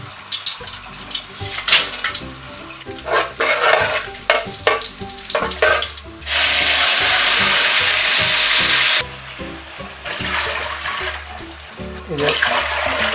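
Whole cloves, cardamom, cinnamon, bay leaf and cumin fry in two spoons of ghee for Kerala beef biryani rice, giving a close sizzle with stirring clatter and a long, loud burst of hiss in the middle.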